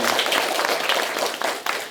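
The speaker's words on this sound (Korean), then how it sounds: "그동안 고생한 우리 학생들을 위해서 한번 박수 좀 쳐주실까요?" An audience at an education community forum in Cheonan gives a round of applause for students, a dense burst of clapping that holds for about two seconds before tapering slightly.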